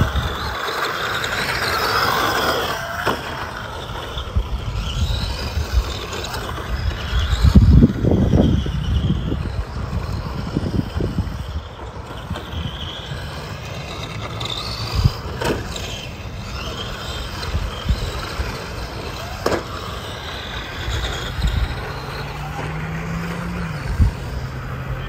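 A Tamiya TT02 rally Audi Quattro RC car on its stock motor runs in bursts, a light whirring motor sound rising and falling with some louder passes, over steady outdoor background noise.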